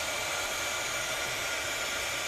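A blow dryer runs steadily at close range throughout, a continuous loud broadband whoosh used while making a mixed media craft layout, with no talking over it.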